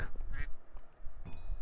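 Short, fairly quiet duck quacks from a climbing video game sound in a quick burst of two or three, then another after a brief pause.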